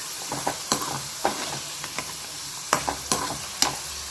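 Potatoes fry in a pan for a lunch-box fry, a low sizzle punctuated by repeated crisp scrapes and knocks of a spatula stirring at an uneven rhythm, close by with no speech.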